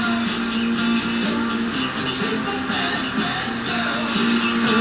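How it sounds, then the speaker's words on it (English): Sangean PR-D4W receiver tuned to AM 1280, a small 1,000-watt station from Salisbury, playing a steady loud broadcast with a constant hum and laptop interference noise throughout. "I'll show you what this thing sounds like on a 1280 out of Salisbury."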